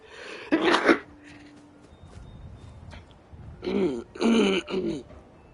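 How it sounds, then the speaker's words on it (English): Two sneezes from one person in a quiet room, a sharp burst near the start and a louder, fuller one later followed by a brief sniff or throat noise, with faint background hum between. "that's the first time I've sneezed in over a month"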